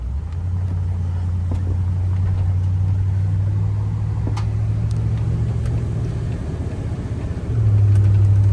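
A 1973 Pontiac Grandville cruising on a hot day, heard from inside as a steady low engine drone with road rumble, rising to a louder, higher hum near the end as it accelerates.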